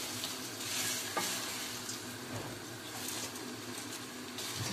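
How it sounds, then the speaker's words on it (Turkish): Broken pasta is stirred in a pot with a soft, continuous scraping and sizzling wash, faint clinks of the utensil recurring at irregular intervals. "Şimdi bunu güzelce karıştıracağım."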